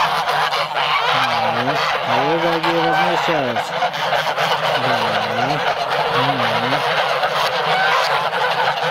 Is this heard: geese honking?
yes